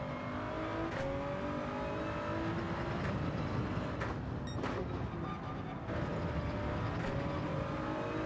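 A Toyota Supra GT3 race car engine drones at the Red Bull Ring in a racing video game, a steady mid-level roar with shifting pitch as it revs, running continuously without talk.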